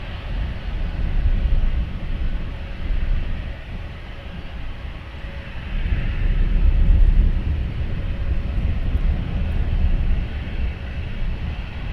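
An easyJet jet departs Luton Airport in the early morning, a broad distant roar that swells and fades in waves, steady and fairly loud with no voices.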